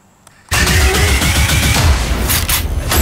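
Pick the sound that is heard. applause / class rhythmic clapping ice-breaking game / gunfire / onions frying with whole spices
gunfire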